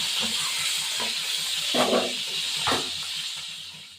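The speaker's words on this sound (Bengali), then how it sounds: "এবার এই আলুগুলো ভাজতে দেবো" Potatoes frying in oil in a home kitchen, a steady high hiss with a few louder sizzling bursts as pieces shift in the pan.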